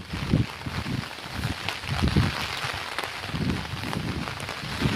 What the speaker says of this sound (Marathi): किती छान पाऊस पडायला लागला आहे